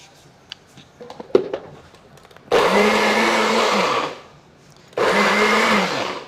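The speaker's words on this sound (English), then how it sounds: "This is actually better if you use a blender versus the NutriBullet, but this is what I have. And I'm pulsing it." A NutriBullet blender pulses ripe peppers, including banana pepper, for a pickled pepper sauce: two loud whirring bursts of about a second and a half each, separated by a short pause, after some light clinking of preparation.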